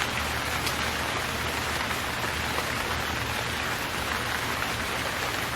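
Steady, dense rain pouring continuously, a loud, even hiss of drops on surfaces with no pauses, no voices and no other sounds.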